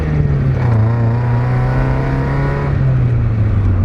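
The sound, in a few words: Mazda Miata 1.6 accelerating on a ride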